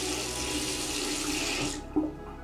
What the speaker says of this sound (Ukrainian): В кране давление хорошее